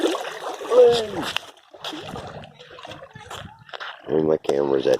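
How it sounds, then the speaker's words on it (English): Water washes and splashes against a camera lens held low near the surface, with several wet surges and sloshes, the strongest near the end, while a person talks over parts of it. "here's water washing up to my lens"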